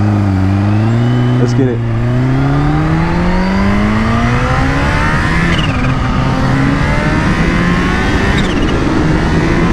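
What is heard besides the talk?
Kawasaki H2 motorcycle accelerating hard in first gear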